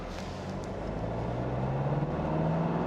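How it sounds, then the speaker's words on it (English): 2021 Kia Sorento 2.2 diesel 4WD SUV accelerating in comfort mode, heard from inside as a low, steady engine drone that rises gradually in pitch and grows slightly louder, with no talk. "Okay, I'm trying to accelerate. I'm in a comfort mode."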